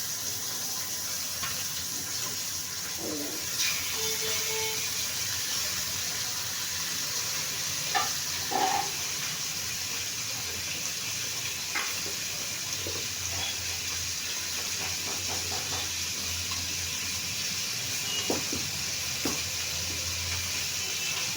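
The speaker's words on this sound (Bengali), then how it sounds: "ফ্রাই প্যান একটা বসিয়ে ভাজবো।" Pomfret pieces rubbed with turmeric frying in a pan, a steady soft sizzle continuing throughout with occasional small clinks and stirring sounds, no voices.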